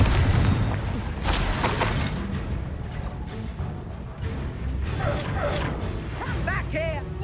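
A Confringo blasting curse explodes in Hogwarts Legacy during a duel, sharp crashing bursts mixed with battle effects while a voice shouts spells over the top.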